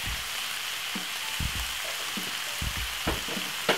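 King prawns fry in a pan with a steady, close sizzle and crackle, broken by a few low thumps and stirring knocks and no voices.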